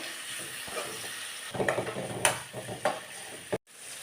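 Tomato and tamarind sautéing in a pan for a Kerala-style curry, a soft sizzle with intermittent stirring scrapes and clinks of a utensil, close and fairly quiet, with no talking.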